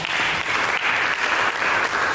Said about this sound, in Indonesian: Berikan tepuk tangan bagi itu.